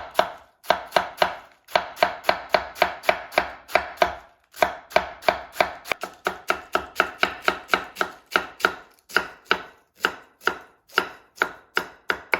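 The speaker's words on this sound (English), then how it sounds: "Here's the cabbage, same thing. Cut into very thin slices" A knife chops cabbage into very thin slices for a tomato chicken rice omelette, giving steady, rapid, crisp cuts against a board with a few brief pauses, close and alone.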